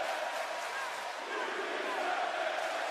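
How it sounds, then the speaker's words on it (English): A WWE 2K wrestling video game crowd roars on its feet, a continuous, even wall of cheering that holds at steady loudness throughout without pauses. "You can just hear this crowd on their feet"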